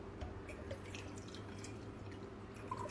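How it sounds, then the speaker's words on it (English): Room-temperature water is poured into a glass, filling about a quarter of it, with a faint, quiet trickle and scattered drips. No one talks during the pour. "in a glass, you just pour about a quarter of the glass"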